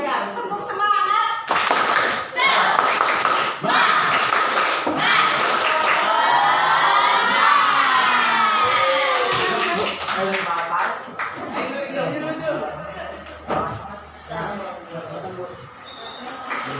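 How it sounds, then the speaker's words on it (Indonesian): Schoolchildren in a classroom perform the tepuk semangat chant, rhythmic bursts of hand claps in patterned groups mixed with shouted group voices, lively and close, trailing off into scattered claps and murmurs near the end. "Tepuk semangat."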